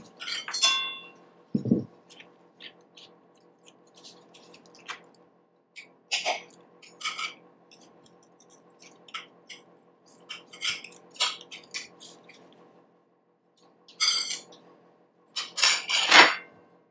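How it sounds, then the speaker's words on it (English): A plate clinks and a knife cuts a slice from a moist vanilla cake, with scattered sharp clinks and soft squishy cutting sounds, close and separated by quiet pauses. "Now we're going to grab a plate and cut a slice of this delicious masterpiece."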